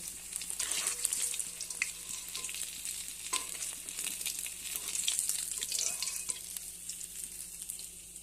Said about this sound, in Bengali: মাছগুলো আমি হালকা করে ভেজে নিয়েছি